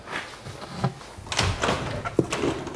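A door or window on a tiny house under construction being opened and adjusted, with several soft knocks, thuds and light scraping of the frame, close by, followed by a sharp clack near the end.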